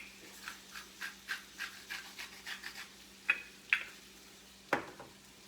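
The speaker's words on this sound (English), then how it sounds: "stir these around, let them get nice and hot" Beans with green chilies and salt sizzling quietly in a pan while being stirred, with a steady rhythm of soft scraping strokes and a few sharper utensil clinks, no talking.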